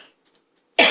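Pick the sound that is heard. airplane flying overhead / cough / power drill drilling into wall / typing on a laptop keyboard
cough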